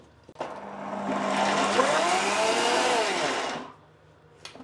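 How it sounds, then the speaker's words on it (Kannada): A mixer grinder pulses a batch of peanuts with asafoetida and jaggery powder, giving one loud, steady whirring grind of about three seconds that starts and stops abruptly, with no speech. "ಸೊ ಹಂಗಾಗಿ ನಾನು ಪಲ್ಸಲ್ಲಿ ರುಬ್ತಾ ಇದ್ದೀನಿ."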